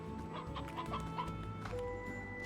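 Chickens clucking in the video game Slime Rancher, a steady run of close, soft clucks over a faint background hum.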